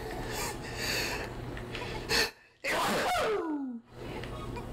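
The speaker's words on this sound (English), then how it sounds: "You sneezed a lot." A person sneezes in an indoor setting. The sneeze comes as one sharp burst after a breath, with game sounds and a gliding tone around it.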